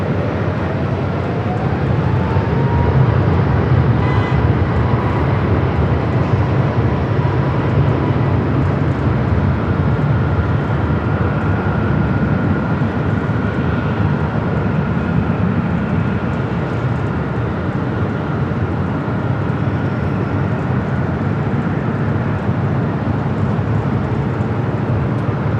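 Hawaiian airliner rolling down runway 25 right at LAX, a sustained loud engine roar with a rising whine, steady and continuous, no talking.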